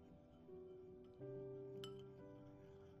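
A spoon clinks against a small bowl while soy sauce and oyster sauce are stirred together, a few faint taps over a steady hum of background tone.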